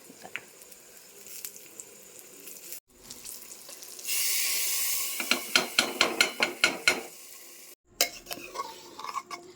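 Grated coconut, mustard seeds and green chilies are stirred in a pan, first with a soft hiss, then with a run of rhythmic scraping strokes, close and fairly loud.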